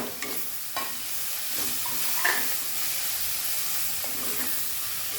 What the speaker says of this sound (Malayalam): എന്നിട്ട് നമ്മുടെ ഈ കാബേജ് ഒന്ന് തട്ടിക്കൊടുക്കുക